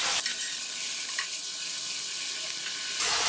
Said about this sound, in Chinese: 把这个香干炸成，应该说煎成有一点硬硬的才可以